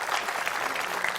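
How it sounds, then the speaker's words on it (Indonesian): A live audience at a talk-show style event applauds in a brief, dense burst of clapping that stays steady and fairly near for the whole moment. "kita kasih tepuk tangan untuk yang..."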